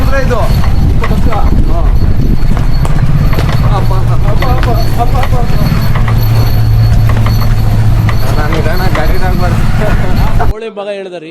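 An old horse cart, its horse twenty years in service, rolls along with steady loud hoof clip-clops and rattling wheels, while people talk over it throughout before a brief quieter moment at the end.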